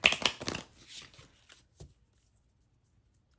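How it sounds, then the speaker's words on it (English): Oracle cards from a Moonology deck are shuffled close up in quick papery riffles, then taper to a few soft taps and silence. "I'm going to get the Moonology cards out."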